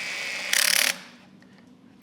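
A torque wrench clutch ratchets and clicks while bolts are tightened down on a TOTO WASHLET+ Nexus S7 porcelain toilet, a dense burst of rapid clicks up close followed by quiet and one last sharp click.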